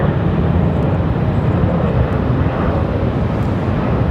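An airplane departs Raleigh-Durham International Airport with a loud, continuous engine roar that stays strong and steady through the whole moment, no voices over it.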